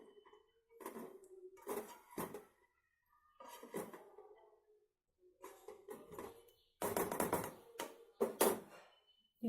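Green rice with spring onions being stirred in a pot, with repeated scraping and clinking of a utensil against the pot in uneven bursts, close and moderately loud, with short pauses between strokes.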